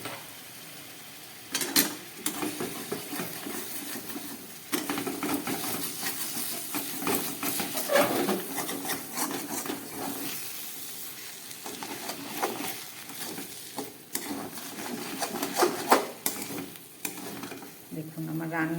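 A spoon stirs ash gourd and lentil curry in a pan over gentle sizzling, with intermittent scraping and clinks against the pan, moderately close and steady, without talk.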